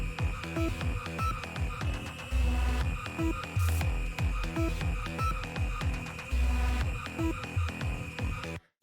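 A doom-style electronic track plays in FL Studio with a synth filter cutoff applied, as heavy pulsing drums and a droning synth repeat in a steady loop before stopping abruptly.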